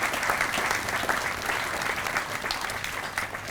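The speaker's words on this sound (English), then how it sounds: "So please join me in a round of applause for the Cordoba Corporation." Sustained applause from a crowd, dense steady clapping at an even loudness throughout with no talking over it.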